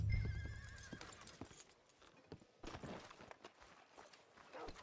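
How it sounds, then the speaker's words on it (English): A horse in a western video game lets out a sharp whinny at the start, followed by soft clip-clopping hooves and footsteps at a moderate distance. "Hitch your horse up here."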